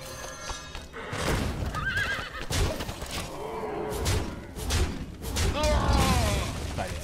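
A horse neighs several times for the chess knight piece in the Hearthstone video game, loud whinnies mixed with clip-clop hoofbeats and thuds, with some talk in the background.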